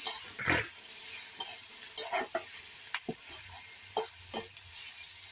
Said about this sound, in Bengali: আদার পেস্টটা দিয়ে একটু নেড়ে নেবো এইভাবে